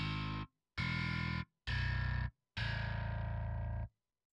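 Heavily distorted electric bass through an UmanskyBass Toner distortion plugin plays four sustained, gritty notes separated by short silences, loud and dry, the last note held longest.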